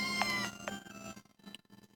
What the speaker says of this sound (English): Are you hungry, cat?